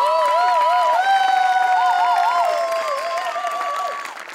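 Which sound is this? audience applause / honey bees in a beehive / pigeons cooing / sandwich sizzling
audience applause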